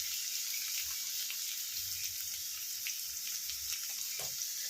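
Chopped onion frying in oil over high heat, making a steady, even sizzle with soft bubbling and a few faint stirring taps underneath.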